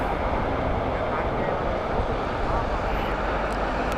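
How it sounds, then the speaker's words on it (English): British Airways airliner flying over Heathrow Airport, heard as a steady, loud broadband jet roar that holds constant throughout without breaks. "Hyderabad flight next from British Airways."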